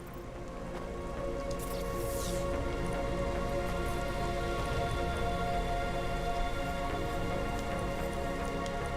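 Steady rain hiss in the CloudPunk video game, a dense continuous wash of falling drops on city surfaces, loud and even throughout with no talk.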